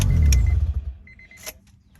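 A 1995 Honda Accord shuts off with its ignition key: loud low engine rumble fades out over the first second, followed by faint key clicks and a brief ticking chime, then near silence.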